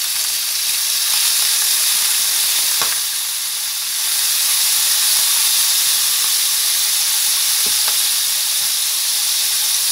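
Soy sauce sizzling in a hot pan for adobo, a steady, loud hiss with a few faint clicks.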